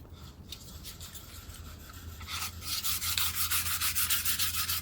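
Sandpaper rubs back a coat of finish on a wooden chest, starting as soft scuffing and building into loud, quick back-and-forth strokes in a steady rhythm, close up.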